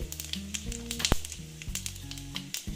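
Bay leaf, garam masala, dry chilli and whole cumin fry in hot oil for a Bengali chital fish curry, crackling in sharp sizzling bursts over steady background music.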